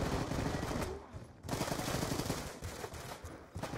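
Rapid automatic gunfire from a competitive multiplayer shooter's hardpoint match, bursts of loud close shots rattling almost continuously with a brief lull partway through, faint voices underneath.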